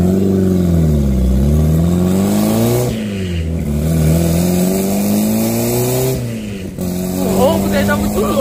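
A remapped Honda Civic with a weak turbo accelerates hard. The engine note climbs steeply through the gears, dropping sharply at each shift before pulling up again. The sound is loud and close throughout.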